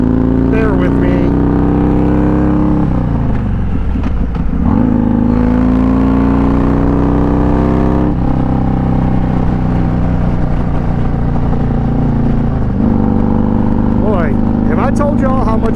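A motorcycle engine drones loud and close from inside the rider's helmet, pitch rising and dropping through gear changes with wind rush, while the rider keeps talking over it.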